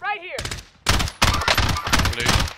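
Dense, loud gunfire bursts from a shooter video game follow a short voice, several players firing at once in close rapid volleys with brief pauses between.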